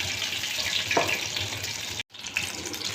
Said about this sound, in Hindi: ये मिर्ची के पकोड़े डाल रहे हैं।